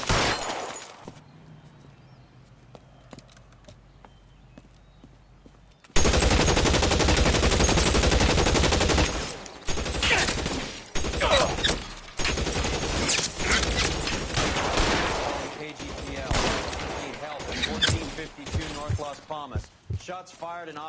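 A quiet opening gives way to heavy gunfire in LA Noire, loud sustained bursts and scattered single shots in a chaotic exchange that continues to the end.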